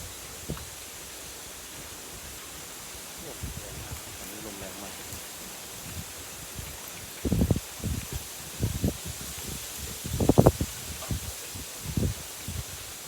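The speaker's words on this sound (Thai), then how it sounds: "มาดูลมครับลมแรงมากเลยครับวันนี้" Strong wind rustling bamboo leaves in a rural forest, a continuous hiss of foliage broken by louder gusty rustling bursts, with someone talking faintly at times.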